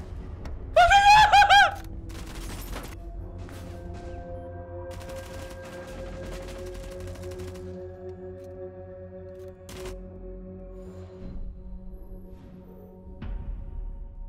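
Rainbow Six Siege gunfire in a C4-focused round: scattered bursts and single shots crack at moderate distance, with a sharp loud burst early, over background game hum and some talk.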